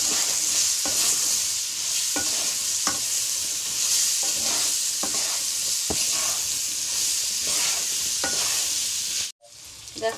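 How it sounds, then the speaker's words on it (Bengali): Pointed gourd (potol) frying in oil with salt in a pan gives a continuous sizzling hiss, broken by soft scraping stirs at irregular intervals, then cuts off abruptly near the end. "পটলটা ভেজে নেব।"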